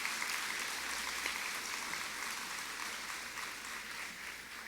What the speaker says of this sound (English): And I think that deserves a big round of applause.